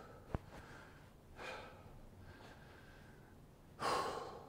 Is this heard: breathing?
yes